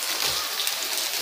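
Steady rain falls in a continuous hiss of fine drops, moderately quiet, with no voices.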